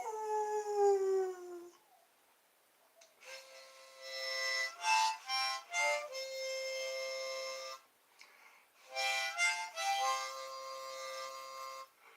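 A dog howls in long, rising and falling wails, loud and close, with repeated harmonic-rich bursts separated by short pauses and no talk.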